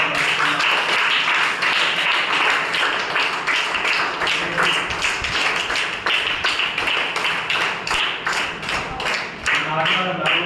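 Applause for members of the Devarakonda sports association, with clapping rattling steadily under a voice speaking over it, moderately loud and sustained throughout.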